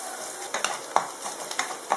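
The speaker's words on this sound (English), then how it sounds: "Now fry these onions till they become brown." Onions sizzle in a hot pan for an Andhra-style mutton liver fry. Repeated scraping stir strokes cut through the steady crackle at close range.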